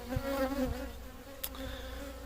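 Honeybees buzzing steadily at the entrance of a hive, a soft continuous drone with a few individual bees flying close past.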